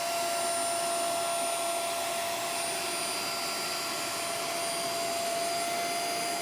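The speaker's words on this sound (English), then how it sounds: "Now I'm going to use the suction to help to remove" A Polti steam mop and vacuum cleaner running on suction, a loud steady whining roar with a high whistling tone that holds constant throughout, close by and without any talk.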